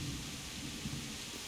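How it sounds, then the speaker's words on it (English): Rain falls in the medieval game Kingdom Come: Deliverance as a steady, dense hiss of downpour with a low rumble underneath, constant and fairly loud, with no voices. "God, I hate rain in this game."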